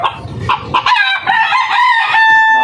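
A rooster crows loudly and close by, a drawn-out strained call preceded by a few short clucks.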